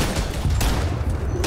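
Rapid gunfire volley in the World War I video game Verdun, a dense, continuous crackle of rifle and machine-gun shots with heavier booms around the middle, loud and sustained throughout without any talk.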